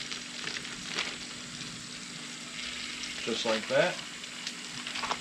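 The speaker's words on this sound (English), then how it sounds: "that cast iron will hold that heat a little bit more and finish off those onions" Burgers and onions sizzle in a cast iron pan at a truck camping cookout, a soft steady frying hiss with a few louder crackles while someone talks briefly.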